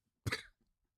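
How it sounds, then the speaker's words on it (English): A man gives a single sharp cough, close and fairly loud, followed by a faint throat-clearing rumble, with no talking. "I just coughed, that's all"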